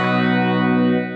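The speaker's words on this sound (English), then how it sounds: "If I crank it up here, it can get really hot and get a fair bit of distortion out of the pickup." Artist AS72 red paisley relic electric guitar cranked up hot through heavy distortion, a sustained, dense chord ringing loud and steady with a wash of effects before fading out at the end.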